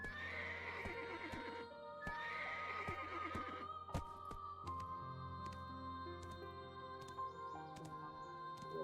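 A horse in the video game Black Desert neighs and whinnies among clopping hooves and bright game effects, moderately loud over a steady ambient bed, with no talking.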